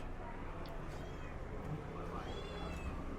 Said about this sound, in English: there's little cats running around in the restaurant